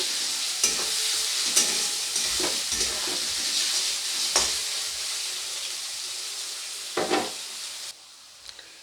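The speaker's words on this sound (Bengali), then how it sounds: "এরপরে পেঁয়াজটাকে কিছুক্ষণ ভেজে নেব, যতক্ষণ না পেঁয়াজের কাঁচা গন্ধটা চলে যাচ্ছে।" Onions fry in a pan with a loud, close sizzling hiss, broken by the scrape and clatter of stirring every second or so, before the sizzle drops off near the end.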